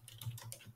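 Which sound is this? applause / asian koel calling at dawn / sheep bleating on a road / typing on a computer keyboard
typing on a computer keyboard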